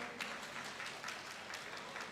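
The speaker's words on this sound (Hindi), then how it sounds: "जोरदार ताली प्लीज बजा" Applause from an audience at a Buddha Jayanti stage programme, a dense steady patter of many hands clapping throughout, moderately loud and continuous with no talk over it.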